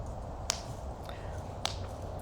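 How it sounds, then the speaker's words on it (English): Two sharp claps from a 14-year-old, spaced about a second apart, faint and distant over a steady low background hum. "Do you hear that clapping?"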